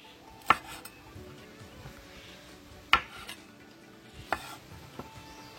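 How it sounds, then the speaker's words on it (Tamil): Dried red chillies are cut in half with a knife on a board for a dry fish curry, three or four sharp, close chops spaced a second or two apart over a quiet background. "காம்பை வெட்டாமல் அதை அரைவாசியாக வெட்டி போட்டு"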